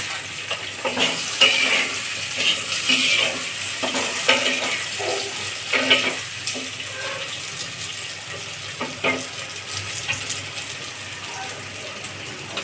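Onion fries in a pan with a continuous crackling sizzle, punctuated by scattered utensil clinks and light watery splashes.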